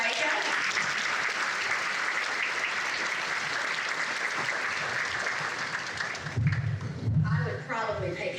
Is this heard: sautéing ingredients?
no